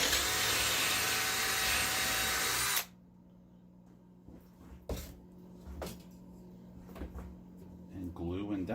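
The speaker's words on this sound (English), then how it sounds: "And now I am ready to drill." Power drill boring holes while fixing a wooden stool, a steady loud whine for about three seconds, then stopping and giving way to quieter workshop knocks and handling sounds.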